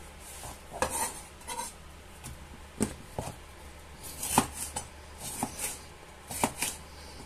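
A kitchen knife slices bell peppers lengthways on a cutting board, giving a series of sharp, irregular knocks and scrapes close by, with no voices.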